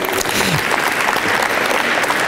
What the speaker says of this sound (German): Auch ein ganz großer Applaus